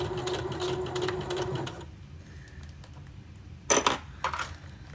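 A sewing machine fitted with a universal needle stitching down a fabric band, running briefly up close before stopping, followed by a couple of sharp clicks and knocks from handling.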